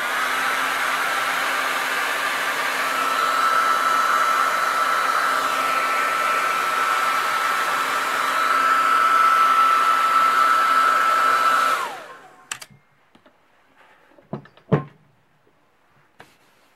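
A hair dryer blowing steadily to dry oil paint on whitetail deer antlers, loud and continuous for about twelve seconds before switching off, followed by a few sharp clicks and knocks.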